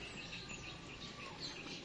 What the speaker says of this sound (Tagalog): Dito po siguro yung mga huni ng ibon. Dito po namumugad.